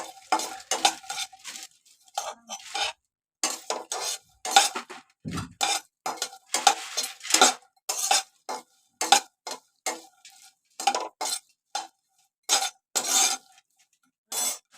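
Green cardamom pods dry roasting in a pan for masala, stirred in repeated short scraping and rattling bursts with brief gaps, close and clear with no talking.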